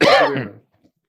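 A single loud, close cough, short and harsh, followed by silence.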